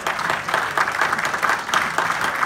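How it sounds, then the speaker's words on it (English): A crowd gives a round of applause for the winners of a Simon Says game at an IT Day event, with dense, even clapping that carries steadily throughout. "Give them a round of applause"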